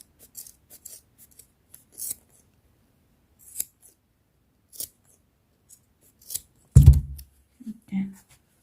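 Scissors trim elastic on a homemade braided headband in a handful of short, crisp snips spaced across the clip, close and quiet, followed by a low thump of handling.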